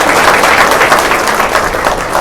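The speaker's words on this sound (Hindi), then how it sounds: "बहना को एक बार जोरदार तालियां सबने देना है" Loud, sustained applause from a crowd at a meeting of officials and employees after a speech, steady clapping filling the whole stretch without pause.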